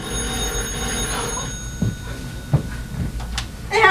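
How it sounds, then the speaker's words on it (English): A telephone rings in a house, a faint warbling electronic tone sitting under steady room noise with a few soft knocks and thumps, and a brighter ringing burst at the end. "I didn't think my phone was ringing"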